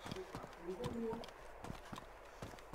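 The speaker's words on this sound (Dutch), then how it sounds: "Ik hoor hem lopen." Another player's footsteps in the video game DayZ 0.60 sound as faint, quick, rhythmic thuds, with soft game sounds and a murmur of voices underneath.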